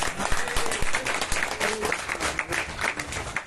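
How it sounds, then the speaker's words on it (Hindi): Audience applause at an evening devotional gathering, a dense wash of many hands clapping steadily and fairly loud for the whole stretch, with faint voices mixed in. "ताली बजाओ तुम्हारी भाषा में"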